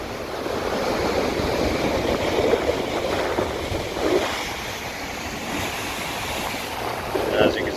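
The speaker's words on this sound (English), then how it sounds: "It rushes in there sometimes and blows right up there." Ocean waves surge and rush in along a rocky coast with blowholes, a steady broad roar of surf with wind buffeting the microphone and a few heavier swells breaking nearby.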